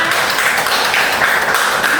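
Students in a classroom clap their hands during a micro-teaching lesson on news texts, a dense, even burst of clapping that fills the short moment.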